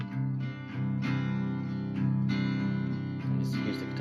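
Strummed acoustic rhythm guitar carries a second verse of the song, with steady chords ringing through a full, sustained mix and no talking.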